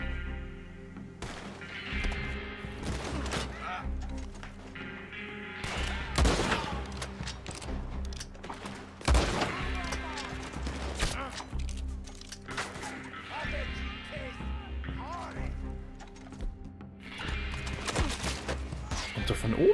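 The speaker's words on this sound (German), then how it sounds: "Kommt da von oben der Schuss?" Scattered gunshots in Red Dead Redemption 2 crack out in sharp bursts over about twenty seconds, with someone talking between and under the shots.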